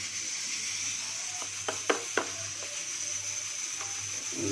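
Red chili, coriander, garam masala and cumin powders fry in a pan with a steady, close sizzling hiss, broken by a few soft clicks and pops near the middle.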